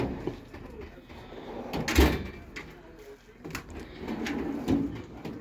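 A large US General toolbox drawer slides out and back in on its runners, a faint rolling rumble with a few light knocks, heard close in a quiet room.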